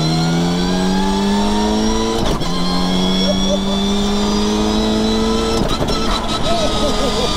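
A loud, close tuned Mitsubishi Evo 7 stroker engine with a sequential gearbox pulls hard with rising pitch, broken by quick gear shifts, while someone talks briefly over it.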